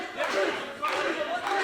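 A wrestling crowd cheers and yells for Nick Comoroto at an independent show, a loud roar swelling in two waves with a commentator talking over it.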